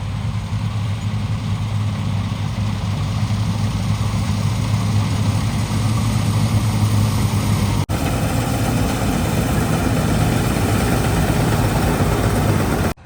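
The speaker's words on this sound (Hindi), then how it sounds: "ये हमारा खेत है, इधर हार्वेस्टर लगा हुआ है।" A combine harvester engine runs steadily in a wheat field, a loud continuous low mechanical drone with a constant hum, close by and without talk, briefly dipping near the end.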